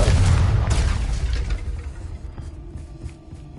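A Confringo blasting spell explosion in the video game Hogwarts Legacy, a loud booming burst at the start that rumbles and slowly fades away over a few seconds.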